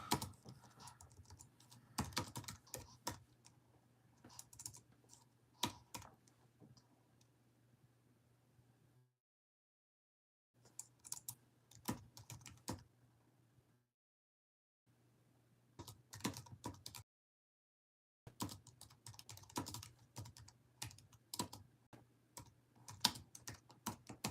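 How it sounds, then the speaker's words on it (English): A computer keyboard typed on in several quick bursts of soft, rapid key clicks, separated by brief silent pauses, with a low steady hum behind the typing. "I'll pull out my keyboard so I can write this down."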